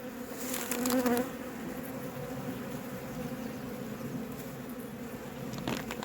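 Honeybees buzz close by at a weak hive, a steady droning hum with a louder burst near the start and faint rustling toward the end.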